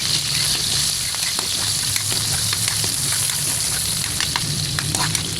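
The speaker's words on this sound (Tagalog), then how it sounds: "Magsisira po tayo. Sibuyas, bawang." Chopped onion and garlic sizzle in hot cooking oil for chicken tinola, a steady frying hiss with scattered pops and crackles, close and alone without talk.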